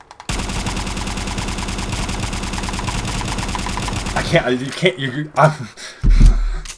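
Rapid semi-automatic fire from an MP5 submachine gun in Fallout 4, with dense, evenly spaced shots over about four seconds. Scattered noises and a low thump follow once the firing stops.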